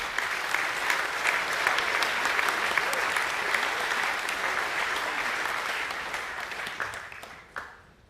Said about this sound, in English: Please give a round of applause for the boys.